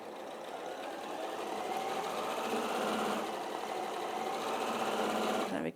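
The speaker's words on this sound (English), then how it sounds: "So just fold that back over the seam and sew over the lumpy bit" A sewing machine stitching over a folded, lumpy fabric seam, a close, fast, even mechanical whirring hum that runs continuously, then stops abruptly at the end.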